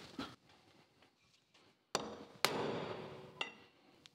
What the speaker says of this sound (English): So probably need to hit that with a hammer